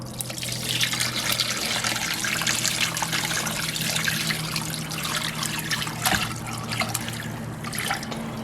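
Salt and brown sugar brine with onion is poured over lake trout, giving a continuous splashing trickle of liquid that runs steadily for several seconds with no voices.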